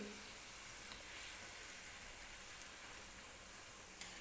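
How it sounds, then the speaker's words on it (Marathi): Puri deep-frying in hot oil makes a dense, steady crackling sizzle like rain, continuous and fairly faint, with one small clink near the end and no voices. "आणि लगेचच मी दुसरी पुरी सुद्धा तेलामध्ये टाकून घेते."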